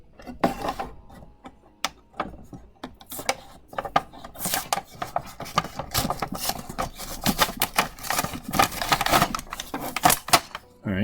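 Plastic blister packaging on a He-Man Mini-Masters toy card being pried and torn open, a busy run of crisp crackles, clicks and snaps, close, with a voice talking now and then.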